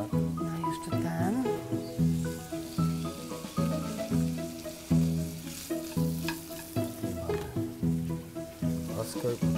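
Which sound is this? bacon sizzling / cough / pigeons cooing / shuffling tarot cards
bacon sizzling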